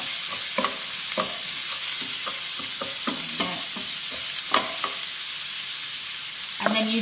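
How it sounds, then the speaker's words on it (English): Courgette spaghetti hisses loudly in a hot pan under a constant bright sizzle, with repeated scraping and clacking strokes of a spoon stirring it, close up and without any talking. "Drop it into the pan, make a nice sizzle."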